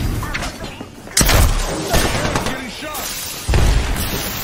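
Gunfire striking the player in Apex Legends, heavy booming impacts and shots arriving in loud bursts, with a player's voice talking over the combat noise.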